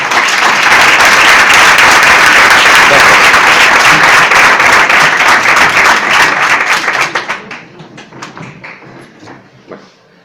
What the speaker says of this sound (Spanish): Un aplauso para David Sentinella